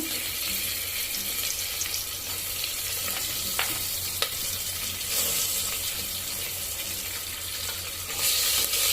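Curry leaves and green chilies frying in hot oil for rice bath, a steady close sizzle and crackle with faint stirring and clinks throughout, no voices.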